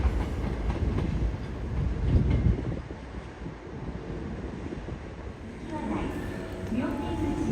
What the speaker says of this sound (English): I bought the ticket and jumped on the express towards Takarazuka.